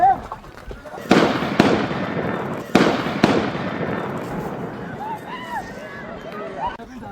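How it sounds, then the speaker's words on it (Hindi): Gunshots ring out during a terror attack on tourists in Pahalgam, several sharp cracks standing out loud over a steady noisy background, with people's voices and movement around. "इस वीडियो में गोलियों की आवाज साफ सुनाई दे रही है"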